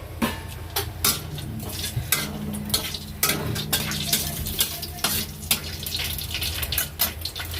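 Meat frying in a pan with a steady sizzle, broken by repeated sharp clanks and scrapes of a utensil stirring against the metal, close and fairly loud.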